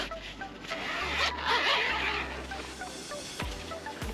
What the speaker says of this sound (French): Sur le côté tu as une fermeture éclair.